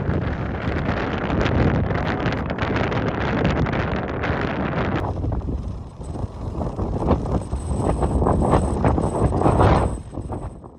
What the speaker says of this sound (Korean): 바람이 진짜 미친듯이 부네